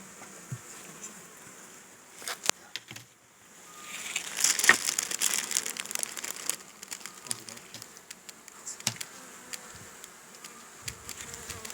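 Bees hum around an opened hive while a starter colony is being set up in early spring, with protein paste packed into a feeder frame; a steady faint drone runs throughout, and brief handling knocks and rustles rise in the middle.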